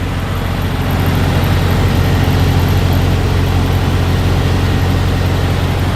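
Loud, steady low drone of a truck engine running while pulling a reefer trailer, a constant throbbing rumble with no breaks.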